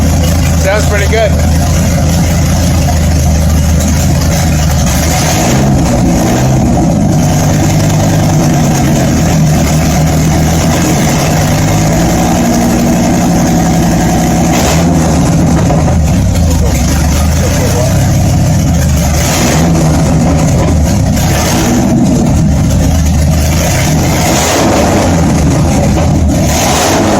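Engine of a 1994 Dodge Viper RT/10 running and revving with open headers and no exhaust fitted, a loud, raw, continuous roar with rises and falls in pitch, with a voice talking over it at points.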